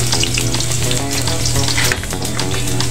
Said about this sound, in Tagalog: Lalagay tayo ng mantika, yung bawang, pituhin na natin hanggang mag brownish siya.